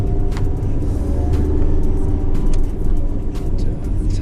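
An old Kia Spectra Wing, a 1500cc car, climbs a hill, heard from inside the cabin as a steady, loud engine and road rumble with a few faint clicks and no talking.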